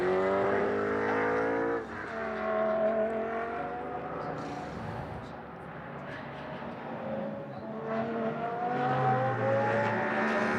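The No. 6 Phoenix Audi race car at a Blancpain Sprint Series free practice session in Moscow, its engine droning loudly and steadily around the circuit, pitch rising and falling through gear changes as it accelerates onto the back straight.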